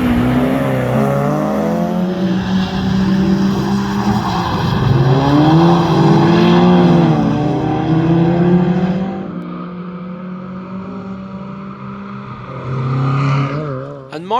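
Tuned Mazda MX5 rally car at a Northern Ireland winter stage rally, its engine revving hard and shifting pitch through gears as it passes close, then fading into a lower, quieter drone before a final rise.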